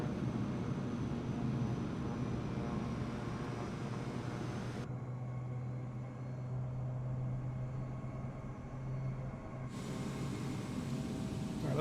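Steady engine hum of an aircraft taxiing in Microsoft Flight Simulator 2024, with a constant low drone and a brief rise in pitch midway, no talking.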